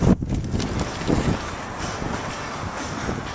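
Strong wind of about 30 mph in Las Vegas rushes steadily and buffets the microphone in low gusts, with a sharp knock at the start.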